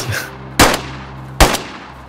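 Two loud single gunshots in the video game DayZ fired at people, each a sharp close crack with a short tail, spaced almost a second apart over low background noise.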